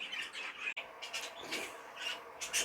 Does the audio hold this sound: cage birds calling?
yes